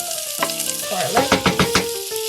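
Chopped garlic hits a hot pan with a bright, close sizzle, rising in bursts as it is stirred, with a few scraping clicks over a steady frying hiss, for Filipino lugaw.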